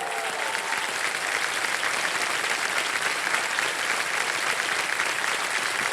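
Studio audience at a Hindi TV quiz show bursts into sustained applause, a dense steady wash of clapping that fills the whole stretch with no talk over it.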